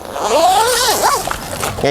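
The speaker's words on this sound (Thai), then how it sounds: "แล้วก็รูดซิปออก" A zipper is pulled open on a Navigator bathroom tent pitched beside a car, a fairly near rasping zip running for over a second while someone talks.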